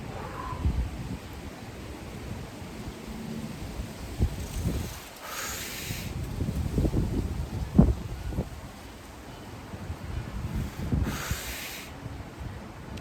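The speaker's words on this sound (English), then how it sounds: "It is breezy out here," Gusty wind on a windy day rushes and buffets against the microphone in uneven waves, with soft rustling between the gusts and no one speaking.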